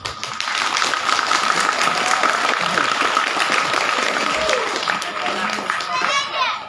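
An audience at a religious Maulid gathering in an Islamic boarding school claps for a Kiai, a loud, somewhat ragged round of applause with children's voices and chatter mixed in throughout.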